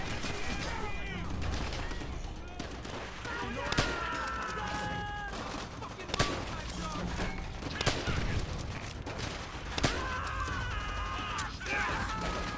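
Arisaka rifle and other gunfire in Call of Duty: World at War, sharp separate shots cracking every couple of seconds over a busy battlefield din, with a voice heard briefly.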